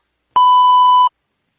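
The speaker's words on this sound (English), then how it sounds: "After the beep." A single sync beep, a steady electronic tone lasting under a second, sounds loud and clean against silence before and after.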